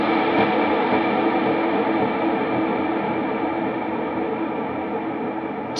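A wash of electric guitar sustains under long, hazy reverb, a dense smeared drone that slowly thins without any voices.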